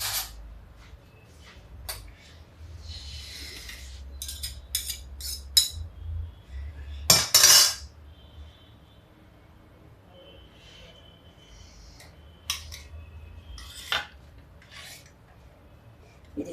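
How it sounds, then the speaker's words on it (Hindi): A metal kadhai holding dry cluster bean sabzi is lifted off the stove and set down, giving scattered metallic clanks and scrapes over a low background hum, with one louder clatter midway. "अभी हम कढ़ाई हटा देते हैं, नहीं तो हो सकता हाथ छूट जाए।"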